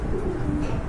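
Pigeons from a collection kept for sale coo in a low, steady murmur, with a continuous soft rumble of several birds sounding close together for under a second.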